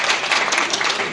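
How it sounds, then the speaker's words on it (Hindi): Applause from the audience at a Diwali Milan gathering, welcoming a guest: dense, steady clapping at full loudness through the whole short stretch, with no pauses or talk over it. "जोरदार तालियों से उनका स्वागत करें।"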